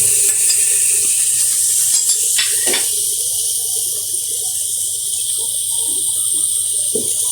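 Ginger and garlic are stirred into chicken biryani in a hot pan, with a steady bright sizzling hiss throughout and a few scraping spoon strokes against the pan.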